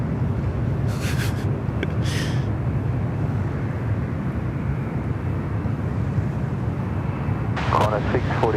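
Fixed-wing airplane taking off from runway 34 left at Sydney Airport, a loud steady broadband engine roar heard from a boat ramp spotting spot, with brief voices on top.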